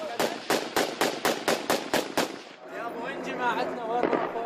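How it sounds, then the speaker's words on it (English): Troops and snipers fire across a river at the opposite bank, a rapid, regular string of about nine sharp shots followed by a voice talking over faint background noise. "troops and snipers fired at the opposite bank"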